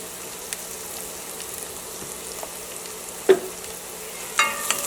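Beef and onions fry gently in a pan with turmeric, a low, continuous sizzle punctuated by a few scattered scrapes and two clear clinks of a utensil against the pan.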